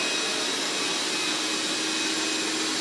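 A Dreame Bot L10s Ultra robot vacuum cleaner runs with a steady, loud whirring hiss, constant and unbroken throughout.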